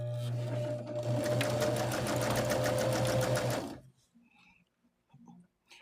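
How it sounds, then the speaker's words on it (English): A sewing machine stitches patches of a quilt block in a steady, fast, loud mechanical whir with rapid regular needle ticks for nearly four seconds, then stops, leaving faint handling sounds. "we'll stitch this way"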